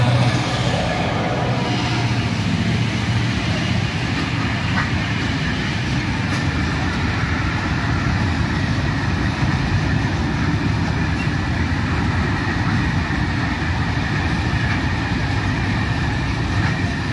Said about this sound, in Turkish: Trenimiz gidiyor. Tren gösterelim size arkadaşlar.